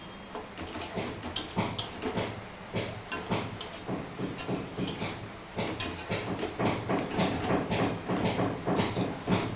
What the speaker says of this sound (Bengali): এখন আমি গ্যাসের ফ্লেমটা বাড়িয়ে দেবো, ডালগুলো ভেজে নেবো।